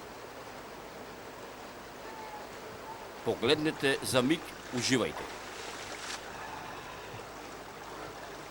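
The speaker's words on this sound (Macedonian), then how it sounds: "чии бистри води бликаа веднаш од местото викано од Подкарпата" Clear spring water gushes at the source of the Crna river in Zheleznec village, a soft steady flowing hiss in the background while someone speaks briefly over it in the middle.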